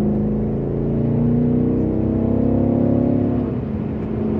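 A BMW M5 F90 engine and exhaust warming up produce a steady, deep idle rumble with a low droning tone, continuous and close, with no talking.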